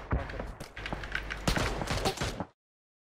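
Gunfire in PUBG crackles in rapid irregular bursts, sharp cracks mixed with rattling shots, fairly close and loud, then cutting off abruptly into silence.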